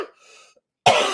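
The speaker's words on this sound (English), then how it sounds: "Don't know where that cough is coming from." A single sharp, close cough that bursts out loudly after a brief near-silence, preceded by faint indistinct sound.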